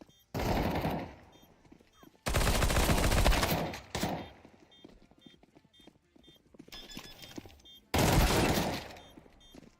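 Bursts of Counter-Strike gunfire come in loud clusters separated by quieter gaps of in-game footsteps and clicks, the volleys sharp and rapid at close range.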